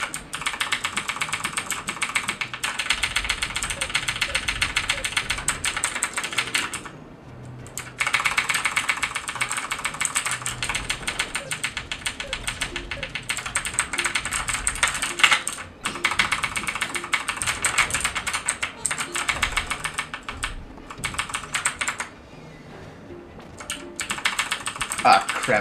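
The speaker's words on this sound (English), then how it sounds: "spamming my goddamn keyboard" A computer keyboard typed on rapidly and hard during Super Smash Bros. play, a dense stream of clattering keystrokes with brief pauses, close and loud, with a voice talking at times.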